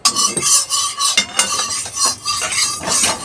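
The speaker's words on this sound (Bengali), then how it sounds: "এক এক করে আমি গোলা রুটিগুলোকে ভেজে নেব" Batter flatbreads (gola ruti) frying in a very hot wok, with spoon scrapes, stirring and metal clinks over a light sizzle, in a busy, irregular rhythm of close, fairly loud strikes.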